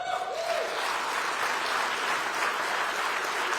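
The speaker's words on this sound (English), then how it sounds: "the governor was met with moments of applause" Dense, steady applause fills the hall for Governor Ducey at his State of the State address, a full audience clapping continuously and loudly from start to finish with no speech over it.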